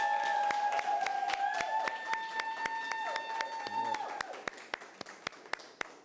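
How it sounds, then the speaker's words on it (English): Sharp, evenly spaced claps ring out over a fading musical tone and scattered crowd noise, thinning toward the end rather than a full roaring ovation. "Give Pastor Lee another round of applause."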